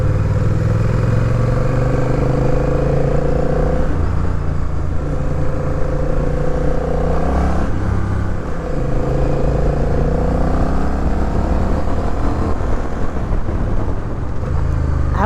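A 2022 Honda CMX 1100 Rebel DCT motorcycle accelerates hard in sport mode, its loud, close engine rumbling and rising in pitch through repeated gear changes, with smooth automatic shifts and constant wind roar.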